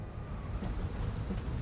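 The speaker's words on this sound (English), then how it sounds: "I'm gonna watch this storm" Steady rain with low rumbling thunder in the game The Elder Scrolls IV: Oblivion Remastered, a constant broadband wash of rainfall with deep rumble underneath, no voices.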